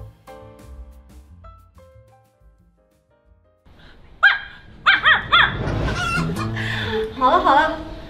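Several people at a banquet imitate dog barking, giving a burst of overlapping voiced barks and yelps that starts partway through, loud and close, after a quiet stretch with faint background music.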